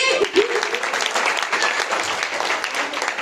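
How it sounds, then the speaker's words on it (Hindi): An audience at a Christmas program claps loudly and continuously, a dense patter of many hands with a brief voice cutting in near the start. "ताली बजाइए।"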